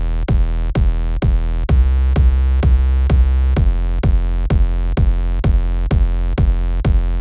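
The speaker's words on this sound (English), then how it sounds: "Here's our kick and bass without sidechain." Kick drum and bass playing together with no sidechain compression: a steady four-on-the-floor pattern of punchy low kicks over a continuous, overlapping bass line, loud and close, with no voices.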